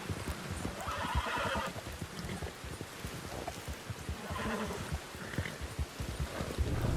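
Horse hooves clip-clop steadily and close by in the Red Dead Redemption 2 video game, with a continuous rush of background noise underneath.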